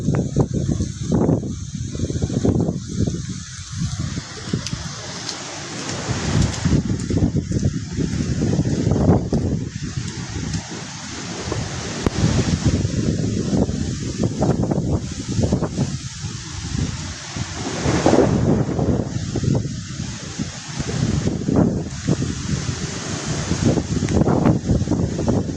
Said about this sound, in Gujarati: પવન સાથે વરસાદ જોરદાર